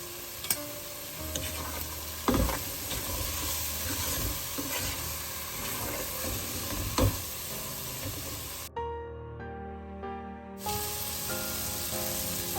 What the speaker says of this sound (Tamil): எல்லாத்தையும் நல்லா கலந்து கொஞ்ச நேரம் வதங்க விடுவோம்